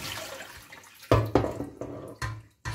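Water and rendered fat pour from the drip tray of an electric smokeless grill used for meatballs, a few short splashing bursts and trickles close by, with quiet pauses between.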